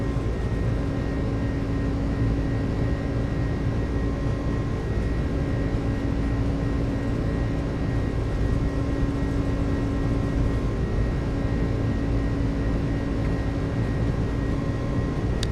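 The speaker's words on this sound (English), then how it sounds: "Takeoff power set. Airspeed's live." FedEx jet on its takeoff roll in Microsoft Flight Simulator, a loud steady engine roar with a constant tonal whine that holds throughout.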